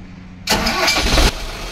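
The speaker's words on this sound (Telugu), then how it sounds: "అరే జనరేటర్ ఒకసారి ఆన్ చేయరా." A diesel generator cranks and fires up abruptly, roaring loud for under a second before settling into a steady, lower running hum; close by, with no speech.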